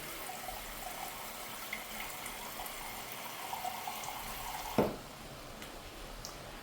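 Water runs steadily from a kitchen tap while food cooks on the stove, a continuous soft splashing stream followed by a brief knock or clunk near the end as the flow stops.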